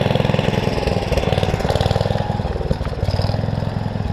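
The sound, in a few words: engine running a Fieldking hammermill, throttled up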